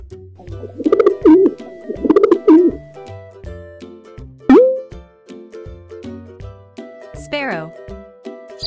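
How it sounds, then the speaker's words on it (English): A pigeon coos in two soft, burbling bursts over a playful plucked melody with popping sounds, followed by a brief spoken word. "Pigeon."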